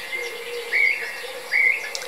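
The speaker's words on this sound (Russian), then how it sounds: "Птички поют вовсю." Birds singing before dawn near a sea eagle nest, two clear repeated whistled chirps standing out over a continuous faint chorus of distant birdsong, no talking.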